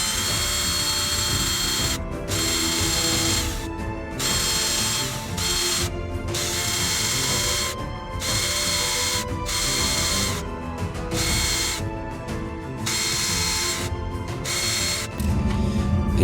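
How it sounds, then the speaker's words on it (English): A stepper drill bit boring through material for a prop bow, a steady grinding whir interrupted by short pauses every couple of seconds, close and loud with no talk. "So what I'm going to do now is just go with the stepper drill bit, go up to the mark that I know I need"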